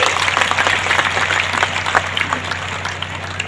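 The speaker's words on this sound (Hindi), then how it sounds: "जोरदार तालियों से उनका स्वागत कीजिए।" An audience at a women's conference in Bhiwani, Haryana claps steadily to welcome a speaker: dense, continuous applause over a low electrical hum, without clear talk.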